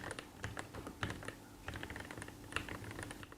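Someone types on a SIKAKEYB SK3 65% compact mechanical keyboard, giving quiet, soft, irregular keystrokes close up with no click, in short bursts and small clusters.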